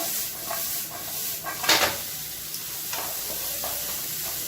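A spoon stirs and tosses cooked lentil sundal in a hot pan, scraping with a steady soft sizzle and one louder scrape partway through, close and without talking.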